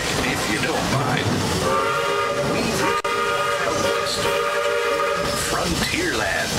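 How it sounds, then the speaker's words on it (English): A passenger train ride on the Magic Kingdom railroad at Walt Disney World, Orlando, rumbles along steadily while a loud, sustained whistle sounds for several seconds in the middle. "I'll stay safe and sound right here aboard my train"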